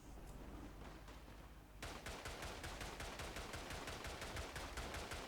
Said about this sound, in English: Oh, machine gun going off.